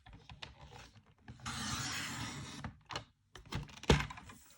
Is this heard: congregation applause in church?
no